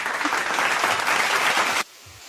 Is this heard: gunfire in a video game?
no